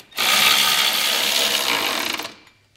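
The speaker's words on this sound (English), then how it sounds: "I'm gonna go ahead and snug these up using a 19 millimeter socket." A 19 millimeter socket tool spins to snug trailer hitch bolts on a 2022 Toyota Sienna, a loud, close, continuous mechanical whir lasting about two seconds before cutting off.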